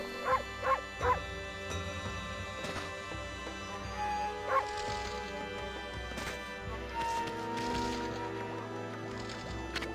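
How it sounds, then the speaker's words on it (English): Wolf character barking in the video game Okami HD: three quick yips near the start and another a few seconds later, over continuous game music and ambience. "Oh, I can bark."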